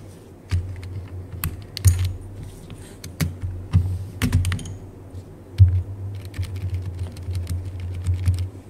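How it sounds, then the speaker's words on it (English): Keycaps pried one by one off a computer keyboard, giving sharp plastic clicks and snaps at an irregular pace over a low steady hum, close and fairly loud. "Gotta take off all these keycaps."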